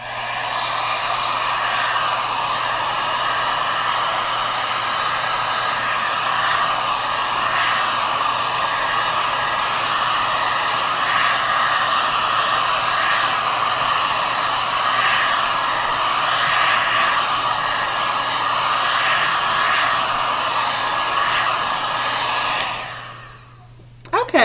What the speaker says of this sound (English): Okay, so here I have my heat gun. It's going to be kind of loud for a minute.